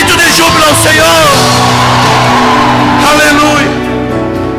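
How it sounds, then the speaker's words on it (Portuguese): A church congregation at a Yom Kippur celebration service shouting for joy, with loud, overlapping yells and cries from many voices that ease off toward the end. "Só os que recebem, dê um grito de júbilo ao Senhor."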